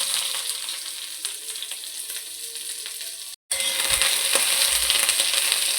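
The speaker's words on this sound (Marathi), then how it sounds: "आता आपण वाटणासाठी कांदा पहिला भाजून घेऊया" Onion frying in a pan for a Saoji chicken masala paste, a steady close crackling sizzle with occasional stirring scrapes, briefly cut off before resuming just as loud.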